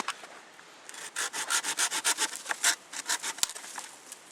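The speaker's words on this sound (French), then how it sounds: "petite scie pliante, hein, elle ressemble à la Baco" A small folding hand saw rasps through wood in steady back-and-forth strokes, about a dozen quick pulls, ending with a sharp crack near the finish.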